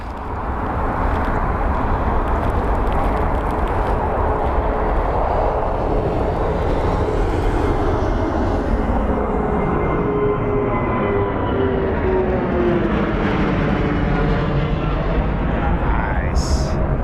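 A large jet airliner roars past on Heathrow's runway 09R, loud and sustained, its engine whine sweeping and fading over many seconds as it moves by.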